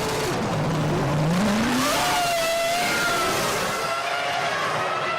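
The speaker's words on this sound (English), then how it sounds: "The engine noises are rising and the formation lap gets underway." Formula One race car engines from the 2005 season rev and whine at high pitch at the formation lap start, one rising sharply then sweeping past, over a steady roar of other engines nearby.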